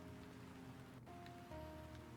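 Steady rain patters on stone tombstones in the video game LADS, a soft continuous hiss at a quiet level with faint tonal game music running underneath.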